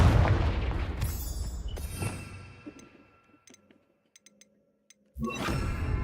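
A Confringo spell blast in Hogwarts Legacy, a heavy booming explosion up front that rolls off into a decaying rumble, then a few faint clicks in near silence before another burst kicks in.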